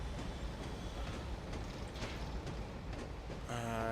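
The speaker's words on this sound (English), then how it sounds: "let's let the train go for a moment" A model Class 37 diesel locomotive runs on a Mardonshire model railway layout, giving a steady, continuous rolling rumble throughout, with a brief buzzing mechanical hum near the end.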